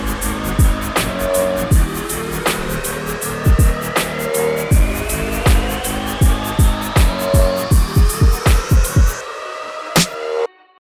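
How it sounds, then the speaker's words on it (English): Build-up section of a remix: loud electronic music with a steady pounding kick, rising sweeps climbing in pitch and repeated downward zaps, accelerating toward a sudden cut and one final hit. "And the build up sounds like this all together."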